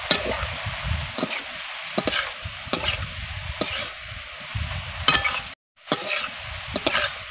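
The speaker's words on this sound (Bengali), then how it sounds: "পেঁয়াজটাকে কিন্তু একদম লাল লাল করে ভেজে নেব" Onions frying in oil until deep red for biryani birista, a crackling sizzle with repeated stirring scrapes and clinks of the spatula against the pan, with a brief gap near the end.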